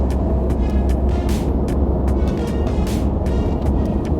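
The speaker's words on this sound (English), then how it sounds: "Driving up north through the mountains is just, it actually makes driving enjoyable." A car drives up through mountain roads with a loud, steady rumble of engine and road noise and a constant broadband roar inside the cabin.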